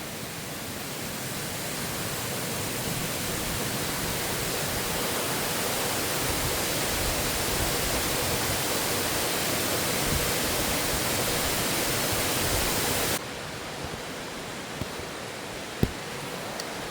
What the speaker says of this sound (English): Right behind us is Oregon's Niagara Falls.